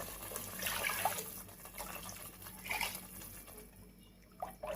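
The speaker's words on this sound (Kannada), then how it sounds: "ಈಗ ನಾನು ಮೂರು ಗ್ಲಾಸಷ್ಟು ನೀರನ್ನ ಹಾಕೋತಾ ಇದ್ದೀನಿ" Water, about three glasses, poured into a pan of fried masala for chicken kheema curry, a close splashing, gurgling pour in uneven bursts that thins out near the end, with no speech.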